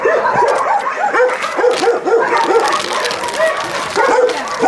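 Several dogs at an animal shelter bark, yip and whimper continuously and close by, the overlapping calls rising and falling in loud bursts.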